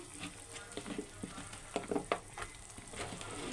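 Eggplant pieces dropped into a frying pan with potatoes, sizzling steadily with several louder crackling bursts and stirring scrapes, close and fairly quiet, with no talking.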